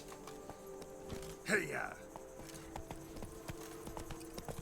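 Roach, a horse in The Witcher 3: Blood and Wine, trots with a quick run of hoof clip-clops alongside steady game sounds, while a man briefly calls out to it.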